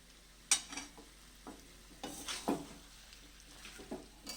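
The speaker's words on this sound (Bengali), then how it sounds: "আর একটু নাড়াচাড়া করতে হবে, হলুদটা যাতে সব মাটনের গায়ে যাতে লেগে যায়, মিশে যায়" Mutton pieces coated in turmeric are turned in a pan, with a quiet underlying sizzle and a series of sharp spatula scrapes and clanks against the metal, some louder than others, at an uneven pace.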